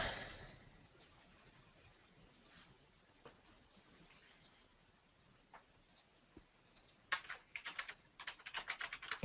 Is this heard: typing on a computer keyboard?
yes